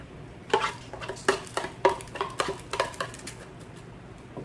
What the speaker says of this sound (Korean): 먼저 본체에다가 불린 쌀 2컵을